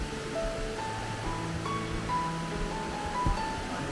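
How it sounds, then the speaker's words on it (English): A South Carolina waterfall roars as a steady wash of rushing water, heard from nearby with a faint high tone drifting over it and no talking. "we can already see the waterfall"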